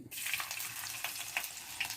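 Hissing sizzle of fennel seeds frying in hot oil, a continuous crackle with a few sharper pops, close and fairly quiet.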